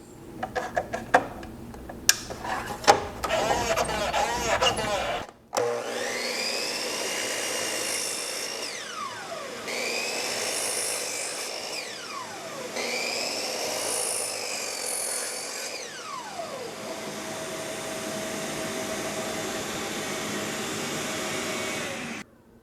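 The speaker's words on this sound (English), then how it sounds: "So overall on that Diablo, the cut quality looked pretty good" A sliding miter saw fitted with a Diablo blade spins up with a loud whine, then makes several sweeping cuts through plywood and maple, each pass rising and falling in pitch before the motor winds down, heard alone and close.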